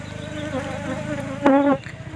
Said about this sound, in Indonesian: ini kita coba taruh dulu di bawah supaya lebahnya itu pada berhamburan dulu